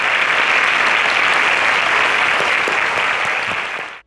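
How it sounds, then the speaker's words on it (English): An audience at a televised contest show applauds loudly and steadily for about four seconds, and the clapping cuts off abruptly at the end. "A round of applause for her."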